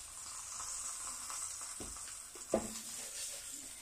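Stuffed brinjal frying in oil in a pan, a steady soft sizzle with a few small pops and a brief clatter as the pieces are turned, close and quiet with no talking.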